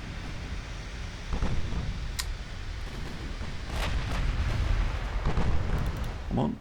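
Naval guns firing in Ultimate Admiral Dreadnoughts, secondary batteries pounding a destroyer: a steady roar of distant booms and rumbling blasts layered over one another, with someone talking over the din.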